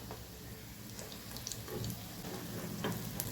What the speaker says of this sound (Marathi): मीडियम गॅसवर लालसर होईपर्यंत कटलेट भाजून घेऊया